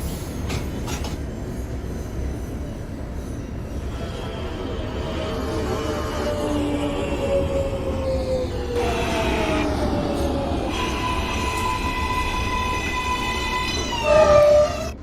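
A simulated NYC Subway R143 J train in the OpenBVE game runs steadily, its motor whine rising and shifting in pitch over a constant rail rumble, with a loud burst near the end.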